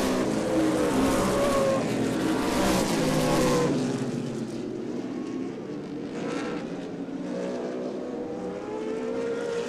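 Outlaw Super Late Model race cars thunder past at a dirt speedway feature, loud engine roar swelling and then fading as the pack passes, with further cars droning at a distance.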